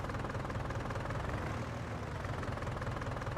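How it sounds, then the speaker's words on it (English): A Fendt tractor in Farming Simulator idles with a dense, steady diesel rumble and a rapid knocking throb, heard close and alone. "Very nice tractor sounds."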